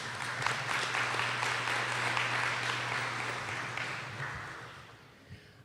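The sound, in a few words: audience applause at a meeting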